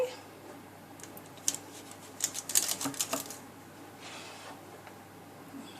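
A knife cuts through baked cheesy cauliflower breadsticks on a board, a short run of sharp crisp taps and scrapes close by, faint overall and in a quiet room.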